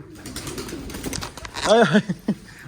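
A pigeon gives a soft, low cooing call partway through, near and fairly quiet, amid faint background noise.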